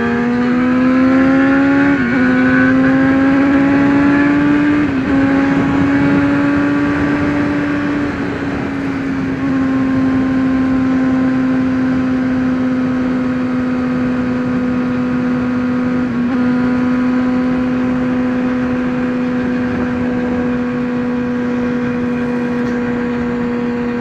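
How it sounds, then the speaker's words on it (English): A loud motorcycle with an aftermarket exhaust drones steadily while riding near Duluth, its deep throaty exhaust note shifting pitch through a few gear changes, with wind noise throughout. "I actually have an Errata exhaust on my bike too, so that makes it nice and noisy"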